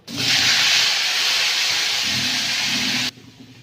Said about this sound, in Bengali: সেদ্ধ করা আলুটা একটু ভেজে নেব